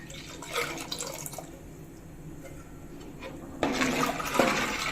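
Hot water pours into ragi flour for koozh in a home kitchen, a continuous rushing splash that softens midway and then surges louder again toward the end.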